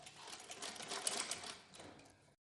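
A sewing machine stitches a single seam on a small Christmas Santa cap for a Laddu Gopal doll, a quiet, rapid mechanical chatter that runs for about two seconds and then stops.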